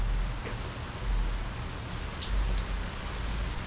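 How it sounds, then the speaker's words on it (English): Heavy rain pouring down on a pier during a rainstorm, a continuous hiss of drops with occasional louder spatters, steady and fairly close, with no talking. "that rain's coming down a little harder and harder"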